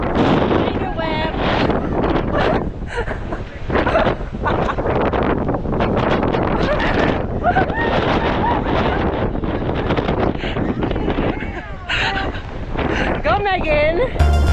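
Strong wind buffets the microphone at Masungi Georeserve, a loud, continuous roar with rustling, heard under close talking.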